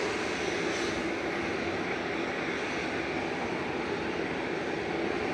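An Airbus A320 Classic jet airliner lined up for departure at Manchester Airport gives off a steady, fairly loud broadband engine roar from start to finish, with no voices.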